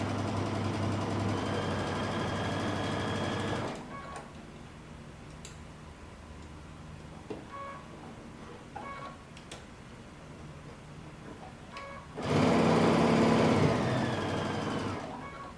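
A sewing machine stitching a tunic seam, running steadily and loudly for several seconds, pausing with quiet ticking and small clicks, then starting up again near the end.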